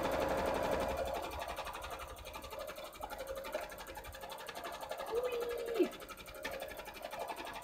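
A sewing machine running a long straight line of stitches for a Pumpkaboo cosplay costume, a steady mechanical whir heard up close beneath faint voices and room noise.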